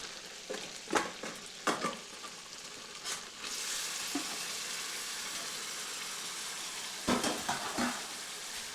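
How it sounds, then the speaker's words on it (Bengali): Small chicken pieces sizzle steadily in spice masala in a pan, a constant frying hiss punctuated by several sharp scrapes and stirs of a spoon against the pan near the start and end. "তো এরপরে মশলার সঙ্গে মাংসটি 5 মিনিট কষিয়ে নিচ্ছি।"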